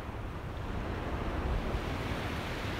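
Ocean surf at a cold beach, a steady broadband wash of waves mixed with wind buffeting the microphone, continuous and fairly soft with no voices.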